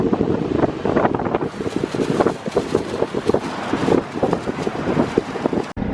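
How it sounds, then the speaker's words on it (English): Strong wind at a beach buffets the microphone in a steady, loud roar with gusty bursts, likely surf underneath, and no voices. "but it was so windy"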